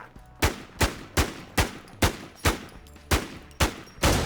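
A SIG Sauer 556 rifle fires about nine loud, sharp single shots at an even, deliberate pace in the game Infestation, each crack ringing out alone with no talking.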